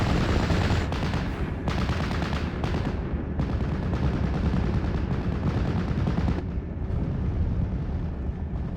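Tank main-gun HE fire and surrounding gunfire in the Steel Division: Normandy 44 video game at Colombelles, a dense, continuous barrage of loud blasts and rattling shots without a break.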